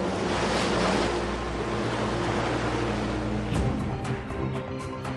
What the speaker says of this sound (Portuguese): O HMS Coventry é engolido pelas ondas.